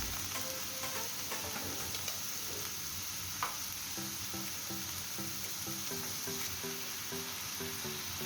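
Ginger garlic paste frying in a pan, a quiet continuous sizzle with occasional stirring scrapes and faint tonal music playing beneath.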